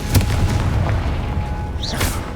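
A Confringo fire spell blasts in Hogwarts Legacy, giving a deep, loud boom near the start. A low rumbling tail follows, along with a smaller pop toward the end.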